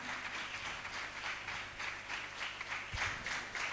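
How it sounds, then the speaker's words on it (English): An audience applauding at a medical college investiture ceremony, faint and distant clapping that rolls on steadily under a quiet room hum. "Let's give a huge round of applause for the wonderful"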